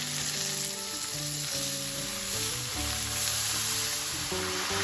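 Salted banana flower sizzling in hot oil, a loud steady crackle and hiss with stirring, close and continuous without talk.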